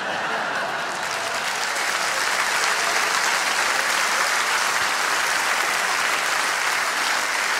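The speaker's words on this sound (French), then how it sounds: "tous mes sympathisants UDC qui applaudissent dans la salle" Audience in a hall applauding continuously, dense and loud clapping from a large crowd that holds steady throughout.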